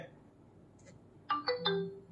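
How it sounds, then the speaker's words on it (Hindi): Fire-Boltt Vogue smartwatch SMS notification: a short, quiet chime of three or four quick bright tones after a near-silent lead-in, heard alone and close by. "जब एसएमएस आता है तब आपकी वॉच में डिस्प्ले ऑन होता है आपकी वॉच में बचता है टोन और आपकी वॉच करती है वाइब्रेट"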